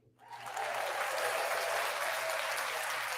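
Applause sound effect on a podcast: a dense wash of crowd clapping that swells in after a brief silent start, then holds steady and fairly loud with no talking.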